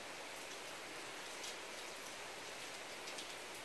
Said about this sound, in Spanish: Esperando que esta lluvia pase.